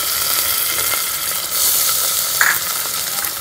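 Browned onions with garlic-ginger paste fry steadily in a pan for a black chickpea curry, a close, even hiss with light stirring scrapes.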